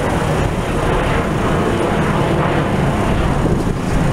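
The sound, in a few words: airplanes flying near Washington National Airport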